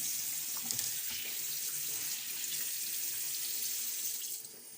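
Water runs steadily from a kitchen tap into a sink, a constant close splashing hiss that continues unbroken and eases slightly at the very end.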